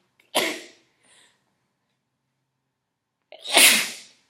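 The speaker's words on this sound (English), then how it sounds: "excuse me, I'm about to sneeze" Two sneezes from one person, close and sharp, the first followed by a small sniff, then a pause before a louder second sneeze.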